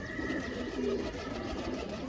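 A pigeon in a loft gives a soft, brief coo amid low background rustle and ambient noise.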